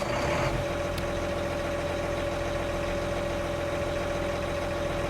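A John Deere C850 tractor in a farming video game idles steadily, a continuous mid-low engine hum with a constant tonal drone that holds unchanged from start to finish with no voices.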